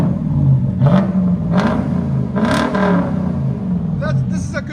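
A Lexus V8 with a modified exhaust, candidate for a true dual conversion, idles with a low, steady rumble and a few light throttle blips, while people talk over it throughout.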